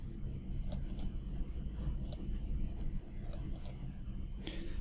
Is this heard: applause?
no